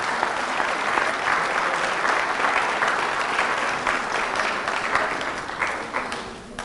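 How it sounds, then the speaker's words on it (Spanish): A congregation at a church healing service bursts into loud, sustained applause, dense clapping that holds steady for several seconds before easing slightly at the end. "Fuertes aplausos a Jesús por su amor y su misericordia"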